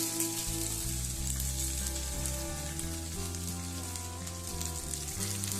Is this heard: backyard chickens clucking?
no